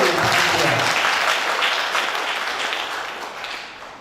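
A seated audience at an annual cooperative members' meeting for a hospital staff cooperative breaks into loud, dense applause that slowly fades over a few seconds.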